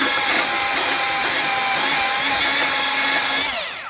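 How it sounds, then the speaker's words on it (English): A power sander whines loudly and steadily close by, its high-pitched tone wavering slightly before it winds down at the end. "I'm sanding these off smooth"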